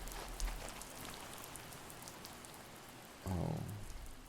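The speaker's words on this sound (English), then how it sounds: "I like how the rain stopped." Rain falls steadily in the video game The First Tree, a faint soft patter of drops across a quiet scene, with a low rumble swelling near the end.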